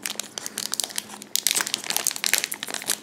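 A Japanese Pokémon card booster pack is torn open with dense, close crinkling and tearing of stiff foil wrapping. The rustle is continuous and grows louder midway, with no talking.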